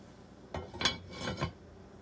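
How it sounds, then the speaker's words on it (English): A lid set onto a pot of simmering freshwater prawn curry with coconut milk, a few quick close metallic clinks and rattles in a short burst, then quiet. "Put the lid on it."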